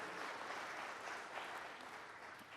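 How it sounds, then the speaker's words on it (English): An audience at a foundation's annual report event applauds, a steady wash of clapping heard from a distance and fairly quiet throughout. "So let's give these folks a round of applause"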